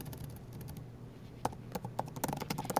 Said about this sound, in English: So we are going to type in